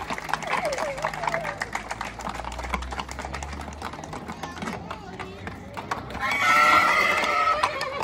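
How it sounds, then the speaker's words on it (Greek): A horse whinnies and neighs at a horse beauty contest during a seaside village festival on Lesbos, Greece, with a crowd murmuring, an announcer talking over it and a louder burst of sound near the end. "ένα χειροκρότημα με τον άλογο τον Πάκη"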